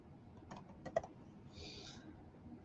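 A few quiet keystrokes tapped on a computer keyboard, short clicks in a small cluster, close but faint over a low room hum.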